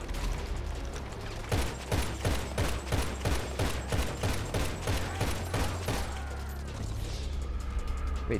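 Rapid bursts of gunfire from GTA Online, a dense run of sharp evenly spaced shots lasting several seconds, loud and close, with a quieter mechanical tail afterward.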